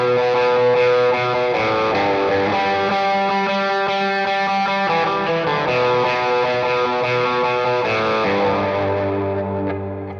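Electric guitar with a fair amount of overdrive, light reverb and an eighth-note delay plays sustained chords and ringing notes, smooth and continuous with repeats trailing behind, fading slightly at the end.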